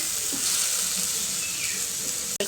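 Chopped tomato frying in oil gives a steady, close sizzle with faint crackles and no voices, and a short clack comes near the end.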